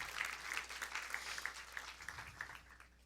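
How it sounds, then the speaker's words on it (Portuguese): A church congregation breaks into applause during a sermon, many hands clapping in a lively, uneven patter with a faint background hum and no speech. "Você pode dar uma salva de palmas a esse Deus?"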